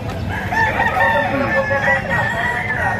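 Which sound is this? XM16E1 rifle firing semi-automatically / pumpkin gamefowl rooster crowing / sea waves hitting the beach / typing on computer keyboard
pumpkin gamefowl rooster crowing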